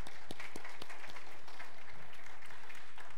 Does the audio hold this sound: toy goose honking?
no